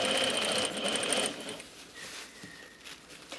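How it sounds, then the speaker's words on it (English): A sewing machine top stitching netting onto a petticoat for a ballgown runs in a steady close whirr for about a second and a half, then stops, leaving faint handling noises. "I do not enjoy top stitching netting onto a petticoat"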